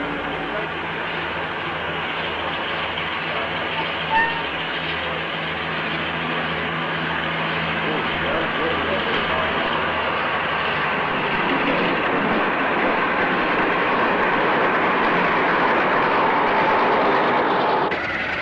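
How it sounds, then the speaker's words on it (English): A Western class diesel hydraulic locomotive, D1016 Western Gladiator, arrives on a 1960s British line, its broad rumbling engine and rolling wheels sustained throughout and growing somewhat louder toward the end, with no talk. "D1016 Western Gladiator arrives."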